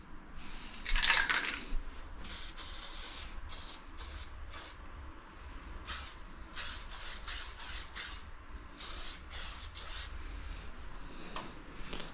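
Short hissing bursts of a blue graffiti spray paint can sprayed onto canvas, a long blast then a steady string of quick sprays with brief gaps, close and fairly loud with no talking.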